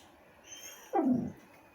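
A single short bark from a black Staffordshire pit bull, slightly whiny and falling in pitch, sounds close by against quiet background hiss.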